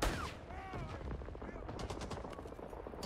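M1 carbine hip fire in the video game Rising Storm 2: Vietnam: a rapid run of sharp gunshots mixed with other battlefield fire, loud and continuous, with voices talking underneath.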